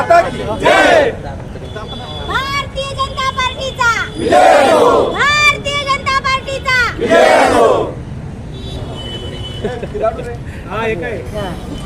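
BJP party workers cheer at a Delhi victory celebration at a public contact office in Ashoknagar, their loud chanting crowd shouts rising in repeated bursts over a constant din of voices.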